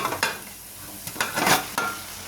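Cooked rice is mixed into fried tomato masala in a pan, with repeated scraping stirs at close range over a low sizzle.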